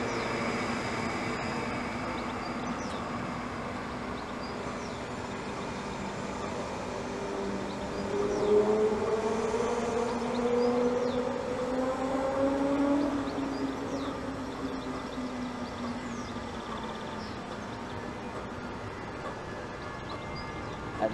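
Class 91 locomotive 91113 with DVT 82214 pulling out of Stevenage on the East Coast Main Line, a steady rolling rumble with rising electric traction whine in the middle, heard from the platform amid ambient noise.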